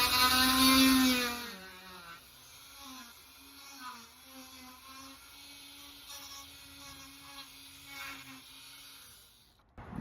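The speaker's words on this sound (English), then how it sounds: "So I've got this little kind of Dremel type tool here. I'm just going to see if I can open up these cracks" A small Dremel-type rotary tool whines as it opens hairline cracks in the side of a damaged board hull. After a loud first burst, a thin, wavering buzz runs on with a faint hum beneath.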